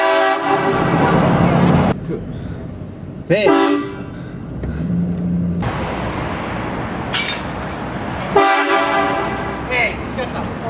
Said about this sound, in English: Have you ever heard of a train horn at a dark night?